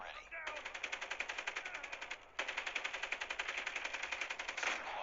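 Rapid automatic gunfire from a new weapon in the mobile shooter Call of Duty Mobile, two sustained bursts of evenly spaced shots separated by a brief pause, loud and close.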